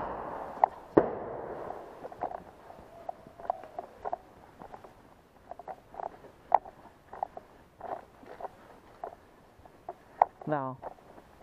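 Distant fireworks pop and crackle in scattered sharp bursts, faint and irregular, with a quiet background hum and a brief whistling streak near the end.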